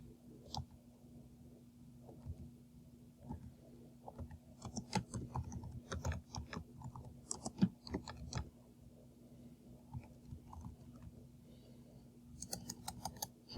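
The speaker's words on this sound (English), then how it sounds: "And then I'm just going to type in." Typing on a computer keyboard, quiet close key clicks in irregular bursts with short pauses, over a faint steady hum in an otherwise quiet room.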